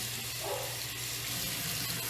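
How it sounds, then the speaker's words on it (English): Warm tap water runs steadily over a makeup cleanser palette under a faucet, a soft, even splashing rush heard alone and fairly quiet. "I'm gonna rinse the cleanser palette under the warm water."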